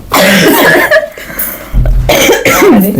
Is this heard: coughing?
yes